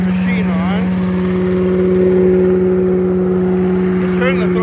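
A Billy Goat KV 601 SP lawn vacuum engine runs at a steady idle, a constant loud drone with a firm low hum throughout, while people talk over it.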